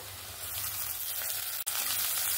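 Chopped tomato and slit green chillies frying with browned onions in a pan, a soft steady sizzle heard close by with no voices.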